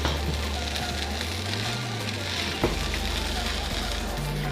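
A vegetable is stir-fried and mixed in a pan for Chinese fried rice, giving a steady, close sizzle with a soft scrape partway through and a low hum underneath.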